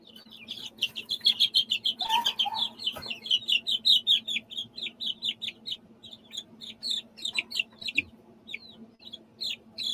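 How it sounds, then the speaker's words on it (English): Buff Orpington chickens give a rapid series of short, rhythmic clucks and chirps, fairly close and clear over a quiet background. "Here's one of the Buff Orpingtons."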